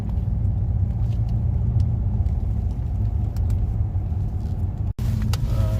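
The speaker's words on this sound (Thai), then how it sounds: "ตอนนี้ขับมาถึงประมาณกลางกลางดอยสุเทพครับ" A BMW 520d G30 diesel sedan climbs the steep uphill road on Doi Suthep, heard from inside the cabin as a loud, steady low engine and road rumble. The sound cuts briefly near the end and then resumes.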